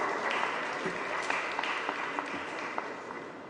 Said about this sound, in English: let's give a huge applause to all the teams for their incredible performances so far